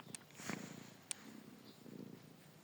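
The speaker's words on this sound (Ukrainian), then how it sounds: "Муркає." A stray cat held in someone's arms purrs softly and close by, a faint continuous rumbling with a couple of small clicks.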